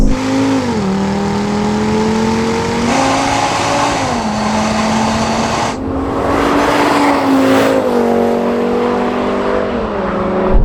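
Two Audi RS3s, one new and one cheap used example, roar hard down a drag strip, engines revving loud and close with rising pitch and gear changes, continuous for about ten seconds.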